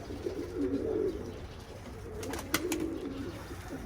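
Pigeons coo in soft, low, throaty bursts close by, with a brief flutter of wings and quiet outdoor ambience between calls.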